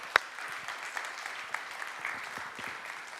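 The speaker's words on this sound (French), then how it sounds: "Alors acclamez pour vous les enfants." An audience claps for the children at a Valentine's Day gathering, steady moderate applause with a sharp loud clap near the start and scattered distinct claps through the spread.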